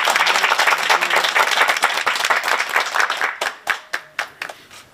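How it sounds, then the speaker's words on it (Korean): Audience applause greets an arriving presidential candidate, Yoon Suk-yeol, at an indoor sports facility: dense, loud clapping that thins out toward the end into a few separate, sharp claps. "뜨거운 박수 부탁드리겠습니다."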